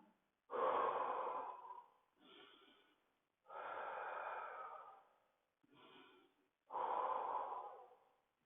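Slow, deep breaths during a stretching exercise, about five long, airy exhalations close to the mic with short silent gaps between them and no talking.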